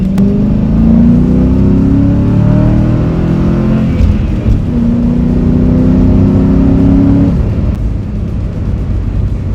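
A Ford SN95 Mustang with the 4.6 V8 pulls hard through second gear, its engine note climbing loud and steady, then dips at the shift into third and keeps accelerating, with no talk over it.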